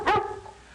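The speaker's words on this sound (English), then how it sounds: "I want big dogs. I want big barks." A big dog gives one loud, close bark that trails off into a short fading tail, with no voices.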